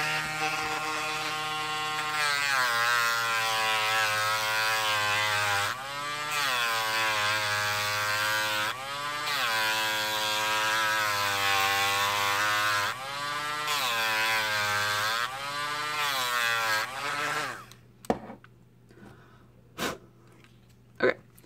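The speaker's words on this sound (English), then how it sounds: "a little bit more sanding and we'll be done" Power tool sanding a GameCube joystick cap fitted onto a Joy-Con, a loud continuous whirring drone in steady bursts with brief pauses, then stopping into near quiet with a few sharp clicks.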